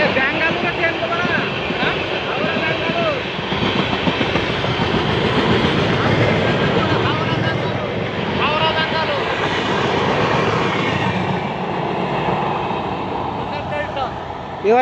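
A train runs along rails in Andhra Pradesh, India, its steady clickety-clack and rumble filling the whole stretch at close range while people talk over it.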